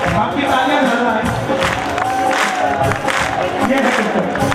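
A crowd at a Khatu Shyam bhajan concert claps steadily together, the applause blending with singing and crowd noise in a loud, continuous wash.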